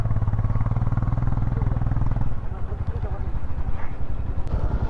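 A Royal Enfield Himalayan motorcycle engine labours while stuck, a loud, close, pulsing thump that revs and then drops into an uneven chugging idle. Someone talks over it.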